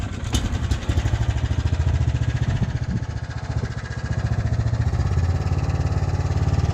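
Engine of a Baja build off-road vehicle running at a rough, pulsing idle close to the microphone, with a rapid, steady chugging beat and a brief clatter near the start.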